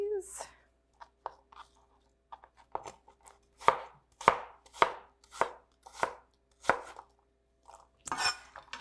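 Apples are chopped on a cutting board with a quick run of about eight sharp knife strikes that grow more regular, after a brief voice at the start.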